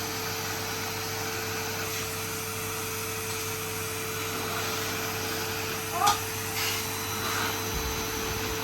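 A Henry Hoover vacuum cleaner runs with its brush not spinning but still sucking, a steady close droning whine that holds level throughout, with voices talking over it.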